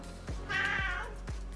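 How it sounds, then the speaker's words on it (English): A house cat meows several times at close range: short cries bracketing one longer, louder drawn-out meow in the middle, with no talk over it. "That's my cat"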